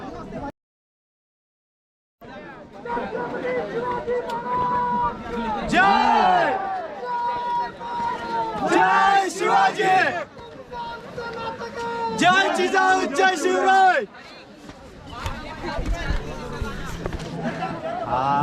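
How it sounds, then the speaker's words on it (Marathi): Large crowd of trekkers chattering on the rain-soaked Kalavantin Durg trail near Prabalgad, a steady mix of many overlapping voices and footsteps, briefly cut to silence early on, then continuing busy and close throughout. "बरीच भयानक गर्दी आहे"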